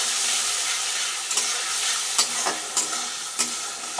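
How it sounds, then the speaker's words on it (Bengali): Ginger and turmeric spice paste frying in oil, with a steady sizzle broken by a few sharp scraping stirs of the spoon, close and continuous without any talk. "মশলাটা ভাজা হয়ে গেছে"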